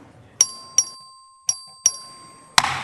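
A voting bell in a legislative chamber rings five sharp, evenly spaced dings, each decaying quickly, with a final clatter at the end.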